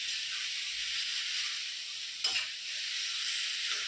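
Spiced soybean curry being stirred in a pan, a steady close sizzle and hiss with a brief scrape of the spoon midway, no voices.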